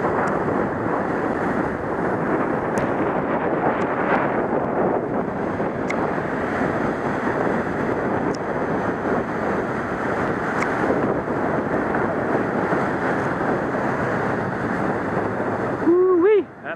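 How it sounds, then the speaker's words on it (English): Surf at Kalapaki rolls in as a steady, loud wash of ocean waves that surfers are riding, with wind buffeting the microphone throughout. "We'll see how these surfers do on this high-rise waves that are coming in."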